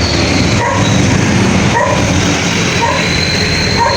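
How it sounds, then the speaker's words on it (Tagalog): A dog barks a few times near a road and bridge in Laguna, Philippines, amid loud, continuous background noise like rushing wind or traffic, the barks partly masked. "Maingay yung aso."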